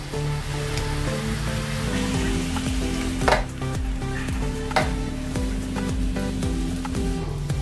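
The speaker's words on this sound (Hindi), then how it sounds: "अभी इसमें हम प्याज का पेस्ट डालेंगे जो हमने तैयार किया था" Onion paste hits roasted spices in a pan for a paneer curry, setting off a dense, steady sizzle and crackle with occasional louder spits, close and continuous without talk.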